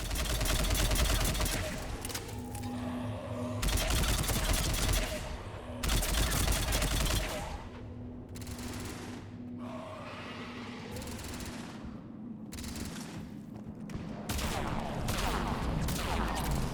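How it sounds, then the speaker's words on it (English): Sustained gunfire in a Mass Effect 3 firefight comes in repeated loud bursts of rapid automatic shots, broken by brief gaps, with battle noise and occasional grunts throughout. "We're in the middle of a firefight right now."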